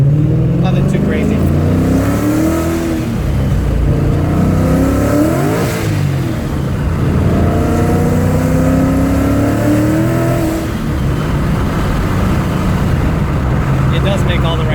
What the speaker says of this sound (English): This Paxton 2200 with the torque booster and the big blow-off valve does sound pretty good.